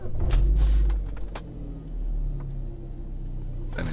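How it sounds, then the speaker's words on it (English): An Opel Astra J engine cranks and catches with a deep rumble, then settles into a steady idle with a few clicks and thumps. "Start the engine."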